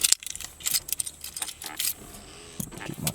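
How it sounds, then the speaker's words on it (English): Keys jangle and clink in several bursts, close to the microphone, with brief quiet gaps between the rattles. "Get my keys."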